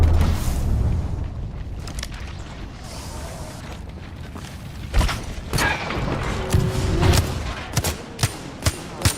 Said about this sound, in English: Throwing a thermite grenade.